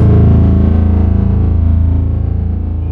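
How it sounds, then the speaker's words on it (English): A synth sound slowed to about ten percent speed through Tone Machine in Kontakt drones low and heavily distorted, a thick, gritty sustained tone that slowly fades over a few seconds. "affected synth sound"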